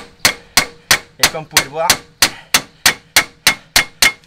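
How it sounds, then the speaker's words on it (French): An aluminium hammer strikes the end of a Peugeot 206 driveshaft during a clutch replacement, giving about a dozen sharp metallic clangs at a steady, rapid rhythm, loud and close, while someone speaks briefly over them. "un marteau en aluminium, vous tapez dessus."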